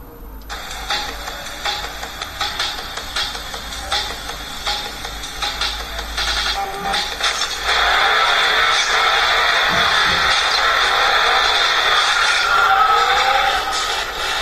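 Racing video game on a Ulefone U58 smartphone, with rapid clicking and ratcheting engine noise, then a steadier, louder roaring whine after the race gets going.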